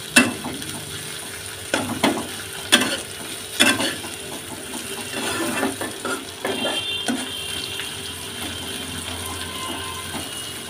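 Onions and slit green chillies fry in a pan as they are stirred, with sharp metallic clanks and scrapes of the spatula early on over a steady, fairly quiet sizzle.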